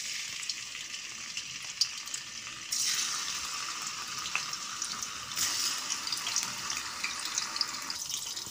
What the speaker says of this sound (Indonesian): Nah, ini minyaknya sudah panas, langsung aja kita masukkan tahu yang sudah dipotong-potong tadi.